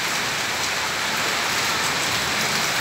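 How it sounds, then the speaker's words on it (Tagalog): Heavy rain pours in a steady, dense hiss during a flooding storm, loud and continuous with no voices. "ang lakas ng ulan, may bagyo yata"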